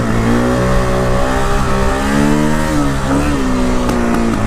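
KTM 525 dual sport motorcycle engine revving on the street, a loud close single-cylinder roar with pitch rising and falling through several throttle sweeps.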